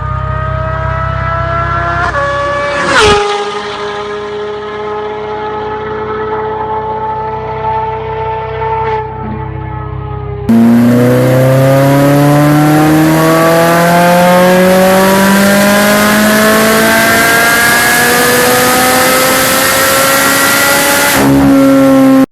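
A Ferrari 4.5-liter naturally aspirated V8 car drives hard, loud engine tones rising and falling through gear changes, then a second, even louder climbing run at high revs with a brief sharp break between.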